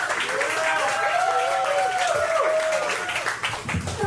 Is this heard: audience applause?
yes